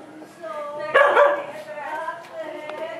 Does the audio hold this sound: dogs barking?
yes